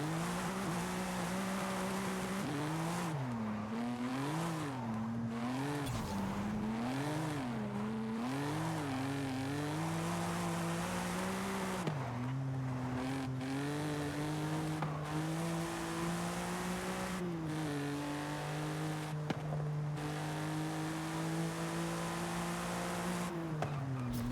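BMW M4 drifting in Forza Horizon 5, engine note holding a loud steady drone that rises and falls as the car slides, with continuous tire squeal running the whole time and no talk.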